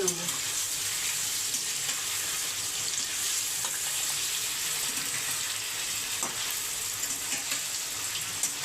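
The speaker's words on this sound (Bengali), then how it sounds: "পনিরগুলো ছেড়ে দিলাম, হালকা ভেজে তুলে নেব।" Paneer pieces fry in oil in a kadai, giving a continuous soft sizzle and crackle that stays even and close throughout.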